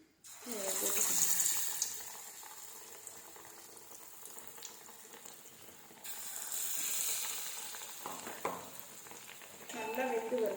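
Slices of raw banana (plantain) dipped in bajji batter dropping into hot oil, with a fizzing, bubbling sizzle that rises and settles in waves, plus a few clinks and handling sounds, close by and without speech.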